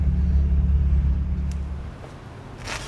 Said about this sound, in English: So here's the motor at idle, a little over, I guess, 600 RPM.